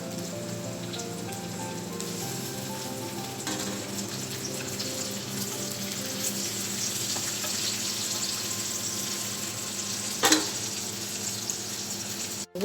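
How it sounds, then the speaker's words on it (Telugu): Boiled chana dal and onions frying in a pan, an even crackling sizzle like light rain, with one louder clatter near the end and no talking. "ఈ శనగపప్పు, ఉల్లిపాయలు ఫ్రై చేసుకుందాం."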